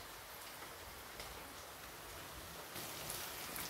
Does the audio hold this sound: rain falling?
yes